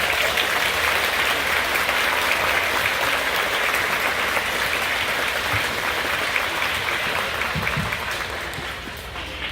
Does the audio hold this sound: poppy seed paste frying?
no